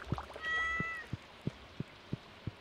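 A kitten in the Stardew Valley video game meows once or twice as it is petted, followed by a steady series of soft, evenly spaced plucky game sounds; no one talks.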